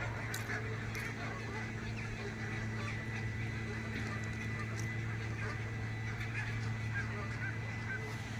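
A flock of geese gathering before migration honks in scattered calls at a distance over a steady low outdoor hum beside a fishing spot.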